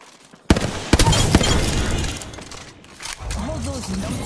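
Gunfire in Apex Legends, a few sharp loud shots and a short rattling burst up front, fading into a rumbling tail, with voices talking underneath toward the end.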